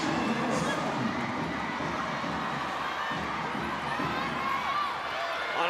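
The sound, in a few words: volleyball crowd getting loud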